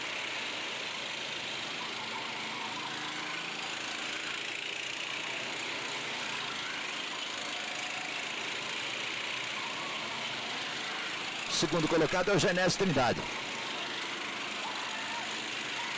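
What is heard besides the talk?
go-kart engines racing on circuit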